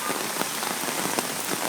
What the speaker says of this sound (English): this is Beijing Rain for you